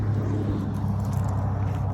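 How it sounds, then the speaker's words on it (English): A loud car passing on a street, a low steady engine and road rumble close by throughout, with no speech over it. "Another car going by, being loud."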